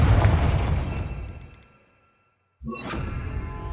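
A Confringo spell explosion in the game Hogwarts Legacy, a loud booming blast with a whoosh that decays into near silence before a second sharp burst of rumbling noise.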